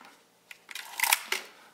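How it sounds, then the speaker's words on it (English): The film advance lever of a Nikon F2A film camera is wound, giving a quick ratcheting mechanical rasp close to the microphone, building to a brief louder burst. "The advance feels really smooth."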